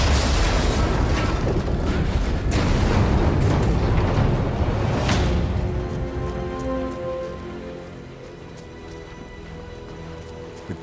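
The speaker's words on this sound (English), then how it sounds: "The gun will blow when it's fired" A sabotaged rifle blows apart when fired in Sniper Elite 5, a loud dense blast with crackling debris that rolls on for several seconds, then fades into a quieter ambient tail.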